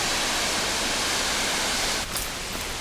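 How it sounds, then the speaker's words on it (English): A waterfall roars in a steady, dense rush of broadband noise, near and constant throughout with no voices, with only a slight shift in texture late on. "You hear the waterfall?"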